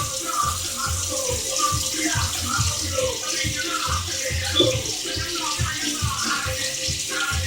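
Tap water running while whiting fish is rinsed in a kitchen sink, a steady close splashing stream with rhythmic sloshing as the fish is moved under it.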